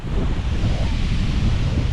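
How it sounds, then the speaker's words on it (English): Steady, dense roar of rushing water at Hell's Gill waterfall, broadband and continuous, heard close by from the side with no voices. "And there's your waterfall from the side."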